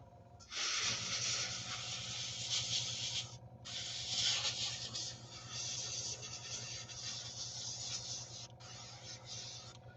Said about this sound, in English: You're just tuning in to watch me make a mess of my airbrushing.